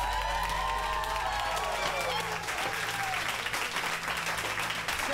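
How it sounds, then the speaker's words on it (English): A crowd applauds with dense, steady clapping that fills the whole stretch, fairly quiet and distant-sounding. "I want to give you all a big round of applause for getting here."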